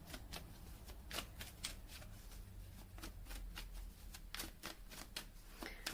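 Tarot cards shuffled by hand for a reading, a close, continuous flurry of crisp riffling and slapping card sounds in quick irregular bursts, with no talking.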